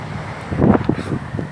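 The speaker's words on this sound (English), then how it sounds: "I'm thinking it's too windy" Gusts of wind buffet the microphone, producing low rumbling thumps that swell and ebb over a second or two.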